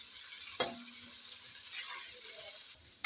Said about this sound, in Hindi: अब मैं इसमें डालूंगी ये बारीक कटे हुए प्याज